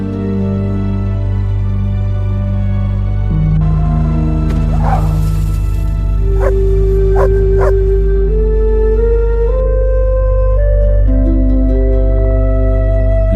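Dogs give a few short barks and yelps, one at a time and spaced apart, over steady, droning background music.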